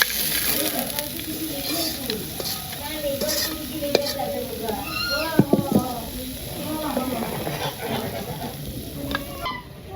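Fish crackles and sizzles in hot oil in a rural village kitchen as the pieces are stirred and lifted out of the pan, a continuous close frying hiss under a person talking.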